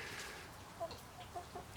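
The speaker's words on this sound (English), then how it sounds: "get a nice, strong, healthy rooster like this" A strong, healthy rooster at a chicken coop makes a few soft, faint clucks over a steady background hiss.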